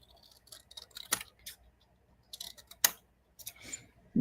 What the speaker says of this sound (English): I'm going to have to cut that with scissors.